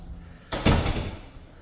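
A hotel room door at a resort lodge opens after a keycard bracelet scan: a short thud and rattle of the latch, then a brief swing, close and fairly loud, with no one talking.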